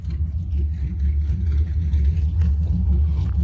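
Deep, rumbling idle of a Chrysler 300 with an 800-horsepower 6.6-liter engine swap, its choppy exhaust pulsing steadily and loud up close with no talking.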